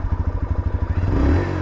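A 2023 TVS Raider 125 motorcycle engine idles close by with a steady, rhythmic exhaust pulse, then briefly revs up into a fuller, louder roar toward the end.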